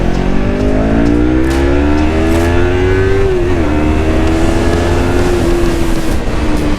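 Yamaha R3 parallel-twin motorcycle engine revving loudly and steadily close by, its pitch climbing, dipping briefly and then holding high, with no voices.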